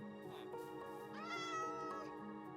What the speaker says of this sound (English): Oh, there's a little kitty cat here.